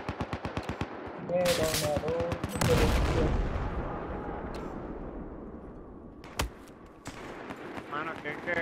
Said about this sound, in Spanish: Yo tengo una 50 cal y le tengo que meter como 20 tiros para matarlo